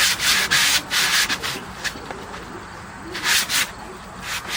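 Sandpaper scrubs by hand around the rim of a wooden bowl in quick, rhythmic strokes that come in bursts, close and fairly loud, with no talking.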